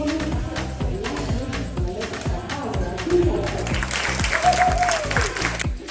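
Steady applause from an audience at a lash technicians championship in Estonia, dense clapping sustained throughout with a few brighter whoops rising near the end.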